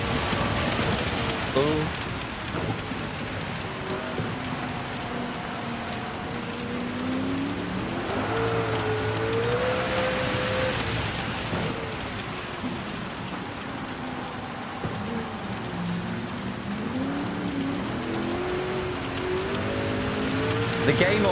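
Steady heavy rain falls through a Gran Turismo 7 race during the 24 Hours of Le Mans, a constant loud patter with car engines whining underneath and someone briefly speaking over it.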